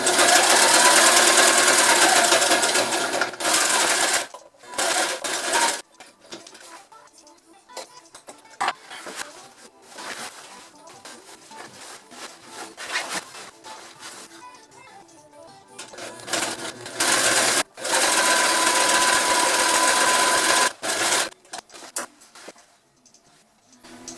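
A sewing machine stitches a boat bimini in long loud runs broken by pauses. Between the runs come short bursts of stitching and the rustle of canvas being handled nearby.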